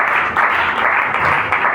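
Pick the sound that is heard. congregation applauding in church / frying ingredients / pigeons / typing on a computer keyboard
congregation applauding in church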